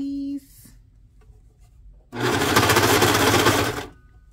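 A serger sewing machine stitching a T-shirt neckline with its blade disengaged runs in one steady, loud, close whirring burst of about two seconds, after a short quiet stretch with faint handling.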